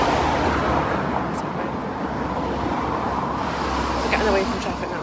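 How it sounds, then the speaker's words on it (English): Steady broadband traffic rumble on a city street, cars and buses passing continuously and fairly close, with someone talking over the noise. "We're getting away from traffic now."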